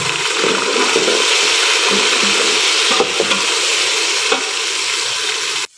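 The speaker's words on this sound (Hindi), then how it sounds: "अब हम इसमें डालेंगे अदरक लहसुन और हरी मिर्ची का पेस्ट।" Ginger, garlic and green chili paste hits hot ghee with browned onions for white chana pulao, giving a loud, steady crackling sizzle close up, with faint stirring scrapes and no talking.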